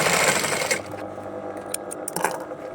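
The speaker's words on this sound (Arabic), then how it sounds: "عاوتاني نكرر الخياطه." Sewing machine stitching a garment, running in a fast continuous whir at first, then stopping and starting with a few short clicks and mechanical ticks, close up and without speech.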